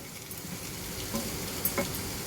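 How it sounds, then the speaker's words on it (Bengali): Chow mein noodles stirred in a pan with tongs, giving a low steady sizzle and soft scraping with a few faint clicks of the utensil against the pan, with no talking. "ভালো করে নাড়াতে থাকো, আর ভালো করে এগুলোকে নাড়াও।"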